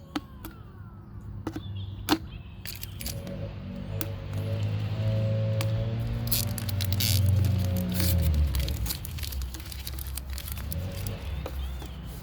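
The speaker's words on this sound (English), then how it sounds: "I'm gonna take off the label." A paper or plastic label is peeled off a plastic bottle: crinkling, tearing rustles and sharp clicks come up close, with a low voice murmuring beneath.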